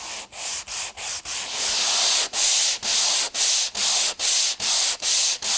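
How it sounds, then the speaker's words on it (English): Sandpaper wrapped on a contour block is rubbed back and forth along wood molding, producing loud, close, rhythmic rasping strokes about twice a second with brief gaps between passes. "and begin to sand."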